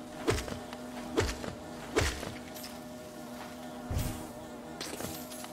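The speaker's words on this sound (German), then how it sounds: "Also warum auch immer es hier Bienen gibt." Buzzing insect sounds from bees in the Hollow Knight game, a steady low drone with several short swelling passes punctuating it, moderately faint and without any talk.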